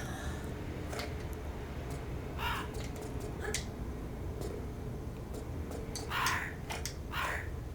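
Crow in the video game Tomb Raider 3 Remastered, Thames Wharf level, caws in several harsh, spaced calls over a steady ambient background.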